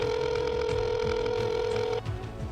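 A telephone rings continuously with a steady electronic tone over a busy low background, then cuts off sharply as the call is picked up near the end.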